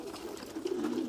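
Pigeons kept in a colony cooing, with a soft, low, throaty coo rolling on continuously, close and fairly quiet.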